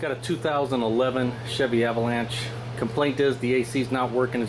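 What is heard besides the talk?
None of the usual background noises is heard.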